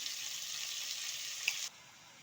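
Puffed rice fritters fry in hot oil with a steady, close hissing sizzle that cuts off abruptly near the end, leaving quiet.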